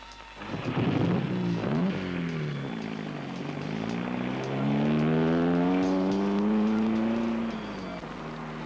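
A car drives along, its engine note rising and falling through gear changes as it accelerates, loud and close throughout, with no talking.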